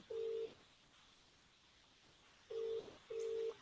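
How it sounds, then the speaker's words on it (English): A short electronic telephone tone sounds once, then twice more in quick succession after a pause, faint and thin over a quiet background hiss. "Is your phone ringing?"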